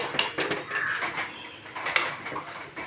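A metal lid clinks and scrapes onto a cooking pot of Kerala-style chicken curry. There are several sharp, close clanks and a brief rattle in a quiet kitchen.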